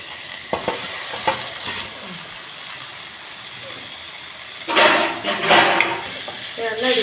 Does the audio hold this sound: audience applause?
no